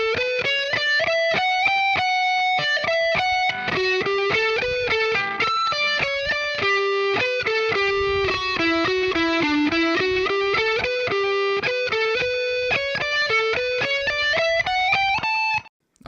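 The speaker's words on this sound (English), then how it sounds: "So that whole first half of the chorus is going to sound like this, slowly." A distorted electric guitar plays a song's chorus slowly: a steady, dense stream of sustained, buzzing notes that climb and fall in a continuous melodic line with no pauses, alone.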